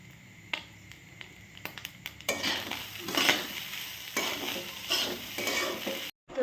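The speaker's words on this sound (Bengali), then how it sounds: "এখন বসে গেছি হচ্ছে ভাত ভাজতে" Leftover rice is fried and stirred in a pan, giving a steady sizzle with repeated scraping and clinking strokes that grow louder partway through before stopping abruptly near the end.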